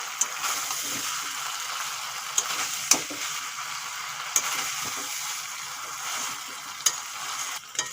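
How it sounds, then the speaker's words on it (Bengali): Young jackfruit and fried potatoes being sautéed in a pan, with a steady sizzle and sharp clinks and scrapes of a spatula stirring at irregular intervals. "ইঁচড় অনেকক্ষণ ধরে কষাতে হবে আস্তে আস্তে জালে কষিয়ে নেবো অনেকক্ষণ ধরে"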